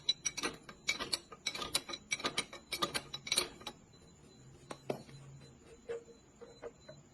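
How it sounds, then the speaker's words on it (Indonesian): A size 24 wrench ratchets off the valve adjustment cover on a motorcycle engine, giving rapid clicking pawl bursts, then a few slower metallic taps and scrapes close by, with no talking. "Lalu kita lanjut lepas tutup setelan klep menggunakan kunci 24."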